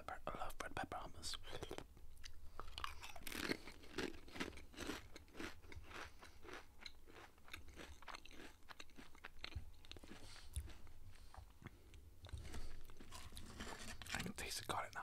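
Garlic and red pepper flavoured Pringles crisps are eaten close to the microphone. Sharp crunches are followed by steady wet chewing and biting, with soft whispering between bites.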